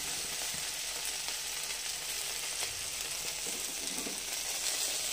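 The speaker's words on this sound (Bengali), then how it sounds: "দেখো ভাজা হয়ে গেছে ঢ্যাঁড়স, আর ভাজবো না, লাল লাল করে ভেজে নিয়েছি।" Okra frying in a wok sizzles loudly and continuously at close range, a bright crackling hiss with faint stirring scrapes and no voices over it.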